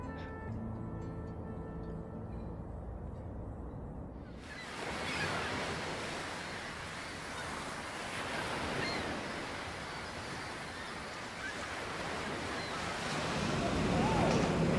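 Ocean waves surge and wash continuously in a loud, broadband roar that swells and recedes, starting abruptly after a few seconds of quieter tonal sound, with no talk over it.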